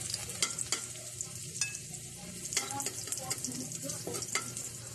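Garlic sizzles steadily in hot oil in a pan for adobong kangkong, with scattered scrapes and taps of a utensil stirring it, close and clear.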